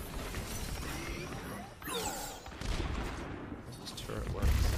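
Turret gunfire in a video game: rapid bursts of shots and crashes, fairly loud, with a voice talking between the volleys.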